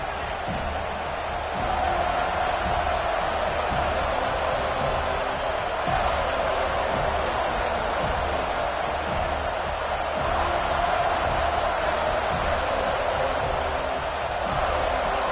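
Stadium crowd at a college football game, a broad, steady roar of many voices that swells slightly midway, heard from a distance and continuing throughout.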